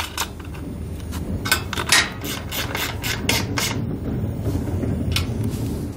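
A socket wrench snugs down the mounting nuts on a GLOLight LED combination trailer tail light, giving a run of close, sharp clicks and ratcheting bursts over a steady low mechanical rumble, with no talking.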